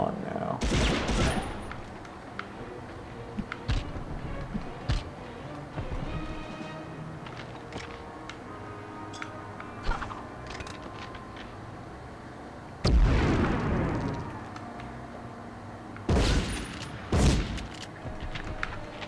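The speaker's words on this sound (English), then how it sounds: "Who the fuck is shooting at me?" Gunfire and explosive bursts in the World War game Medal of Honor Underground, with scattered shots and heavy blasts, including loud bursts near the start and later on, while a voice talks over the combat.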